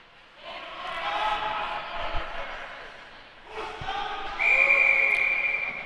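A referee's whistle blows during a hockey game, a sustained shrill tone late in the clip over a murmuring arena crowd and an announcer's commentary.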